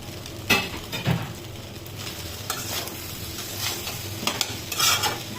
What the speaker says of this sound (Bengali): আমরা ভালো করে নেড়ে নিচ্ছি, এটা মিক্স করে নিই।